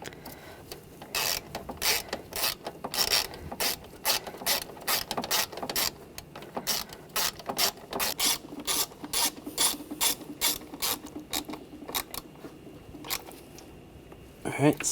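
A ratchet tightens bracket screws underneath a 2009-2013 BMW 328i xDrive 3.0L I6 during starter replacement, with repeated close bursts of rapid clicking and short pauses.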